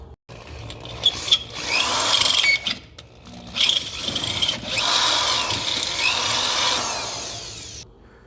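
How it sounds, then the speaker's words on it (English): A power drill bores out the welds on a sway bar bushing of a 2009 Ford Flex, loud whirring bursts that start and stop several times with a longer steady run near the end. "So we're going to drill those welds out"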